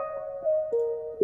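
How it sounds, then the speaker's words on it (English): A few sustained electric guitar notes from a music production riff at original pitch, a smooth, clean melodic line with soft note changes, fairly quiet and alone. "which is just an electric guitar that I played."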